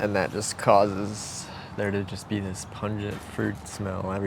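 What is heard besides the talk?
No distinct noise like a dog, phone or traffic.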